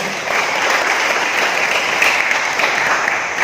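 A school assembly audience at SMK Negeri 2 Kuripan bursts into steady, dense applause, loud and continuous throughout with no voices over it.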